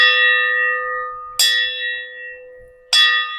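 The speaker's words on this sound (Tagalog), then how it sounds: "Ito yung aming bell." A bell rings three times at spaced intervals, each strike bright and clear, ringing on and slowly fading before the next.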